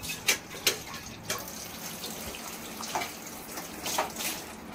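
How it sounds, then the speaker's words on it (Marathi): Water is poured into pav bhaji cooking in a pot, giving a few faint, brief splashing bursts against a quiet kitchen background. "मी पाणी टाकते."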